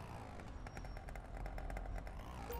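Motorcycle engine in the video game GTA V, a steady buzzing drone running throughout at moderate level, with no talk over it.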